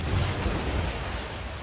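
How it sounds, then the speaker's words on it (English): A building blows up in the SimCity city-building game, a steady loud rumbling blast with no distinct sharp onset, holding for under two seconds. "Wait for it, guys. Big explosion coming."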